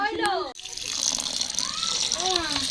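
Pieces of goat meat being washed, with water splashing and running steadily close by while a voice speaks briefly at the start and later near the end.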